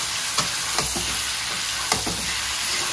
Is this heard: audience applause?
no